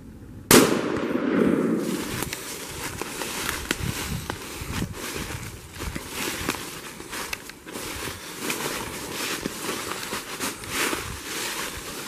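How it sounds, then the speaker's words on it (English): A single sharp, loud rifle shot fired at a buck during Arkansas modern gun deer season cracks out near the start, followed by steady outdoor wind and ambient noise with no further shots. "Wait for him to get broadside, take a clean shot."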